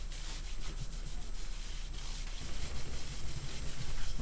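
A t-shirt rubs a light coat of lacquer onto a Stratocaster guitar body, making a steady, close, scratchy friction that swishes back and forth for several seconds without speech.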